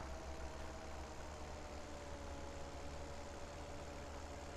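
A tractor engine idles steadily in a farming video game, a continuous low rumble with a faint whine on top, constant in level throughout with no talk over it.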